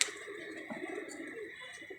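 Pigeons cooing in a loft, a soft, low, throaty coo rolling on steadily and close by, fairly quiet, with no voices over it.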